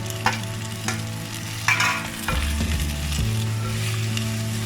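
Tomato and green chili sautéing in a pot, a continuous sizzle with occasional stirring scrapes and clinks, close-up over a low background hum, no voices.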